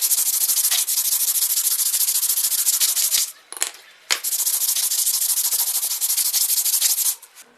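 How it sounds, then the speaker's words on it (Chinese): A car brake pad rubbed by hand against sandpaper, heard as loud, steady, close abrasive scraping in long strokes, with a short break in the middle before it resumes and then stops near the end. "现在我们就用砂纸打磨一下这个刹车片的肉体。"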